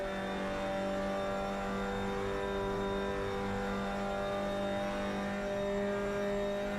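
Mazda MX-5 engine in the Assetto Corsa racing game on an LA canyons road, a steady sustained mid-pitched engine drone with a slight rise in revs, clean and continuous with no talking.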